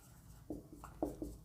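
A few short marker or chalk strokes squeak and scratch on a board during a maths lesson, faint and close, in four quick taps and scrapes with no speech over them.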